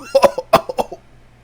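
A voice imitates a character's coughing fit at a tabletop roleplaying game session, with several harsh, close coughs in quick bursts that trail off.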